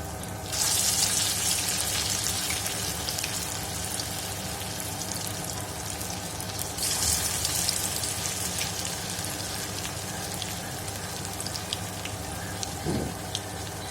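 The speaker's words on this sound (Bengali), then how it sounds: "তো তেলটা গরম হয়ে গিয়েছে, এবার আমি দিয়ে দেবো সমস্ত বড়া।" Drumstick flower fritters (sojne phuler bora) frying in hot oil over medium-low flame, a steady close crackling hiss with dense popping that holds throughout, no one talking.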